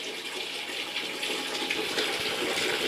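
Water running steadily from the tap of an instant electric water heater, a continuous hissing splash at close range with no talk over it.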